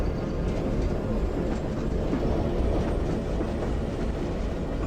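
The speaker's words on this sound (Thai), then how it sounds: "รถไฟน่าจะโค้งไปนะ" A train rolls along in the zombie video game Zompiercer, producing a continuous loud, dense rumble with faint rhythmic clatter that holds steady throughout.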